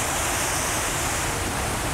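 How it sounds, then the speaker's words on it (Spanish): Iguazú Falls thunders from a walkway right among the cascades of the Iguazú River, a dense, unbroken roar of crashing water filling every moment, loud and close, with no voices. "Estamos en una pasarela dentro de las cataratas"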